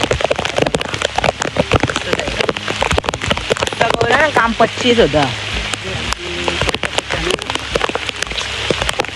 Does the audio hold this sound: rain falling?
yes